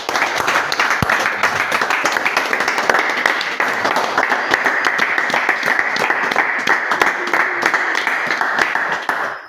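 A church congregation applauds and acclaims the Lord in a sustained, dense wash of clapping and cheering voices that fills the whole stretch at a steady loud level.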